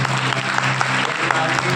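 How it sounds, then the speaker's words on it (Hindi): A church congregation claps loudly and rhythmically together, a brief burst of strong, close, evenly spaced hand claps. "ताली बजानी है तो जोर से"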